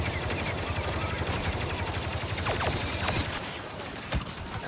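Rapid automatic gunfire from a heavy weapon in a Star Wars Battlefront 2 mod game, a dense continuous volley of close, loud shots with sharper individual cracks near the end.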